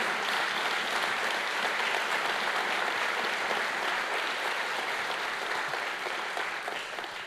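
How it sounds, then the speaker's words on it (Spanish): Sustained applause from a large church congregation, dense and even throughout, tapering slightly toward the end. "Dale un fuerte aplauso a Jesús, sí"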